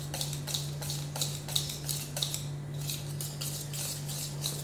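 Quick, rhythmic clinks of a spoon or whisk against a bowl as mango puree is mixed into cream, close and steady over a constant low hum.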